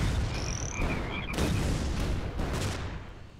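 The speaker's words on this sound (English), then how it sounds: "It looks like the frogs won't hit you until they blow up" A croaking-frogs weapon in the artillery game ShellShock Live: a few short ribbity croaks and tones ring out over a dense rumble of explosive bursts and pops, moderately loud, with no talking.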